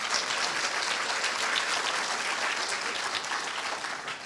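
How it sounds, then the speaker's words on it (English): A room of people at a university gathering gives a round of applause, steady overlapping claps at moderate volume that thin out slightly toward the end. "Give them a round of applause."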